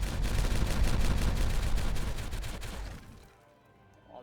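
A TNT detonation in the beaver colony-building game Timberborn sets off a loud, rapid crackling burst of blasts for about three seconds that then cuts off into near silence.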